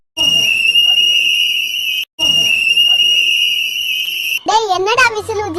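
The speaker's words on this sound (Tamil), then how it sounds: "என்னடா விசில் ஊதிட்டு இருக்க?" A whistle blown in long, shrill, steady blasts with a short break between them, followed by a voice speaking.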